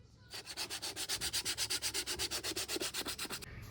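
Rapid rhythmic rasping of coarse 60-grit sandpaper scrubbing back and forth on a motorcycle air filter cover, about twenty even strokes up close, steady and loud with no voices.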